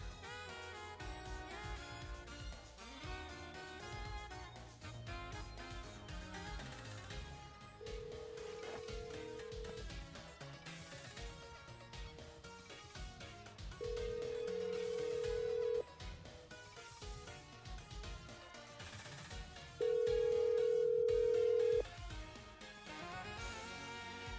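An incoming call rings three times in a Gen 1 Pokémon game, each ring a steady two-second tone with even gaps, loud over continuous game music; no one speaks.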